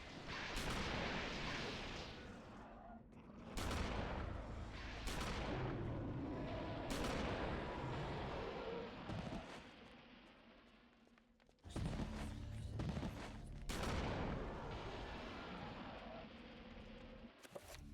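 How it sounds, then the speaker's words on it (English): Shotgun blasts fired at monsters in Eternal Darkness: Sanity's Requiem, with several loud, booming shots spaced a second or two apart amid rumbling game noise, no talking. "Alright, I might as well just use this shotgun. Die, monster!"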